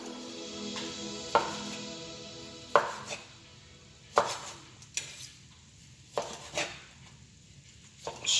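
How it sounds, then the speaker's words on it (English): A knife slicing through cooked, juicy pork tenderloin on a cutting board for Asian-style rice with pork and vegetables, giving about eight sharp, evenly spaced chops and thuds, close and fairly quiet, with no talking. "I'm going to start cutting our pork tenderloin"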